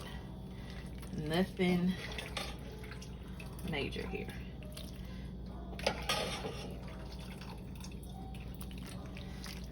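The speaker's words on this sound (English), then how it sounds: "I have a fluted spoon so that water comes out of it" Water dripping from cooked pasta held in a slotted spoon over the pot, a few soft irregular drips over a quiet kitchen hum, with someone talking at times.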